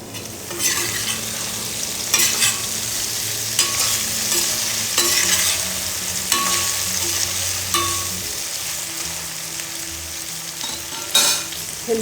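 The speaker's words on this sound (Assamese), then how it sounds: "ভেন্দিখিনি ভাজোঁতে মই গেছটো বেছিকৈ দি লৈছোঁ আৰু লৰাই আছোঁ" Okra sizzling in a pan over a high gas flame, steady frying hiss with repeated scraping stirs at irregular intervals, close and clear with no talk.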